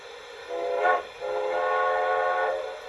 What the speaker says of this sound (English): The first whistle is a short whistle.